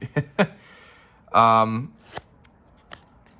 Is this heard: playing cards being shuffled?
yes